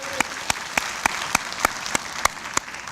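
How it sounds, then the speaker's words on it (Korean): An audience at a political gathering claps in thanks, a steady crowd applause punctuated by sharp, evenly spaced louder claps in a quick regular rhythm. "감사의 박수를 보내드립니다"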